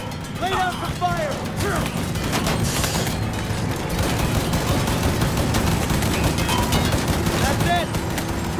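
Gunfire in the video game Mafia 3, a dense run of shots and bursts packed into a steady barrage, with shouted game dialogue and background noise mixed in.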